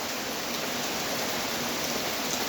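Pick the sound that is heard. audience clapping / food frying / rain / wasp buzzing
rain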